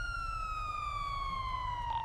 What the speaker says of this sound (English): Turn off those sirens.